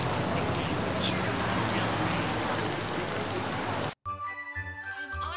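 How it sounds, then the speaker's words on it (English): Steady, dense rain hisses loudly for about four seconds in the video game Raw Danger, then cuts off abruptly into quieter game sounds. "That nasty sound? That was just the rain."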